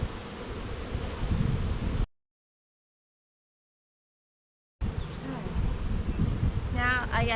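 Dense buzzing of many honey bees close by, a constant droning swarm, interrupted by a stretch of silence before the buzzing resumes.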